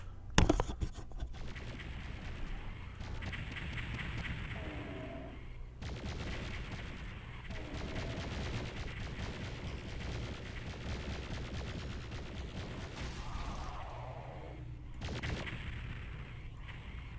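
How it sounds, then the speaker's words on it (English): Rapid gunfire from shooting in Brutal Doom 64, a dense, continuous rattle of shots running throughout at moderate level, broken by a few short pauses. "You're not supposed to be shooting at me, you're supposed to be shooting at them."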